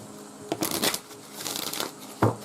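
Someone shuffles a deck of cards up close, giving rapid papery rustling bursts in two stretches and then one sharp card snap.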